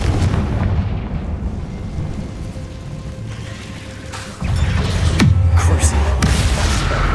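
Confringo fire spell blasts in the Hogwarts Legacy video game, a loud rumbling explosion at the start, then a second heavy burst midway with crackling impacts, under a game soundscape.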